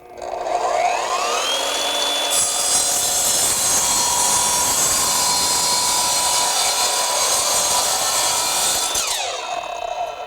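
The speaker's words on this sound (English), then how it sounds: "what kind of cut are we going to get on this 2x lumber?" An Evolution multi-material miter saw slices slowly through 2x lumber, a loud steady whine of the blade spinning up, then grinding through the wood for several seconds before winding down, with no talk.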